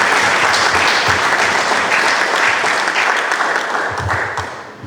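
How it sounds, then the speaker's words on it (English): A crowd applauds loudly and continuously at a ribbon cutting for a rangeland program launch in Isiolo County, the dense clapping tapering slightly at the end. "Let's clap for Isiolo County."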